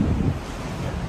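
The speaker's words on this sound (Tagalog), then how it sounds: "May konting hangin lang guys dito sa sa amin dito sa Prince Edward." Light wind gusting steadily outdoors in Prince Edward, Hong Kong, under typhoon signal 3, a broad continuous rush with low buffeting against the microphone for the whole stretch, no voices.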